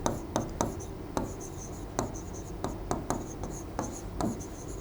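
Chalk or marker strokes on a classroom board during a geography lesson, a series of sharp scratchy taps and short scrapes in an irregular rhythm, close and fairly clear against a quiet room.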